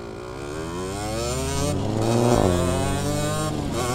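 A motorcycle engine revs while riding, its rumbling harmonic note rising steadily in pitch and volume to a peak, dipping briefly, then climbing again, close and continuous.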